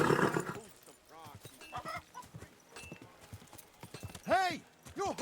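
Horse hooves clip-clop in the medieval role-playing game Kingdom Come, a quick run of moderately close footfalls mixed with game voices talking over them.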